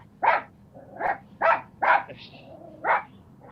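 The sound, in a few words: dog barking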